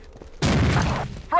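A frag grenade blasts in a video game: one sudden, loud, broadband boom that rings out for about half a second, then fades.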